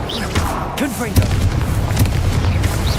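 A Confringo spell explosion from Hogwarts Legacy, heard as a dull booming burst with rumbling low impacts over a few seconds, under an energetic voice and game music.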